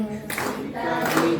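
A group of women clap together in rhythm along with singing at a women's training seminar, the claps close and steady under the voices for the whole moment.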